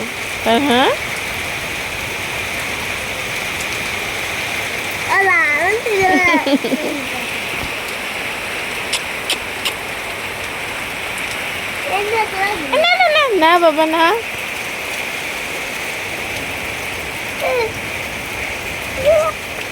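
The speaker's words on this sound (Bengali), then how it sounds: "হঠাৎ শিল দিচ্ছে শিল পড়ছে" Heavy rain with hail roars steadily with a hissing patter, while people talk in the foreground at intervals.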